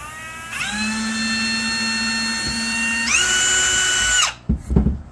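A power drill driving a screw into wood whines steadily, pauses briefly, then revs again at a higher pitch before stopping, followed by a couple of short knocks.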